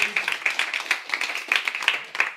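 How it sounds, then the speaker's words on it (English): A small meetup crowd claps briefly to welcome newcomers, sharp individual handclaps close by in an irregular quick rhythm, loud and distinct rather than a dense roar. "let's give a quick round of applause to the newbies here."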